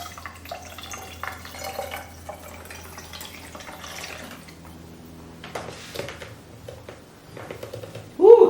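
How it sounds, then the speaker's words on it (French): Water runs and drips from a tap into a sink during household cleaning, a quiet, intermittent trickling with scattered splashes and clinks, fairly faint, ending with a short louder burst. "Voilà, je vais mettre de l'eau."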